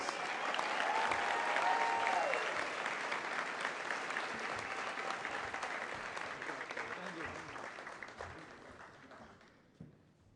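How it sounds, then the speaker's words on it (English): Audience at a fall 2021 induction-to-the-profession ceremony applauds award winners, a dense, steady wash of clapping that holds loud for several seconds, then thins and fades toward the end, with faint voices underneath. "Let's give all the winners a round of applause."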